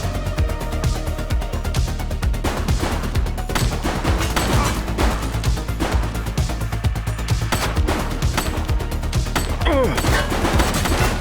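Gunfire in The Precinct during a police shootout, with repeated sharp shots layered over a dense, loud action soundtrack, steady bursts throughout.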